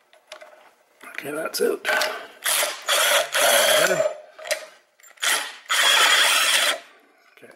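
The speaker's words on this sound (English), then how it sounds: "you need a 16 millimeter socket to get at these, and so let's get these done" A socket ratchet clicks in short bursts while undoing bolts on the 1.8T engine of a VW Mk4 Golf during a timing belt and water pump job, close and clear, with a brief spoken remark.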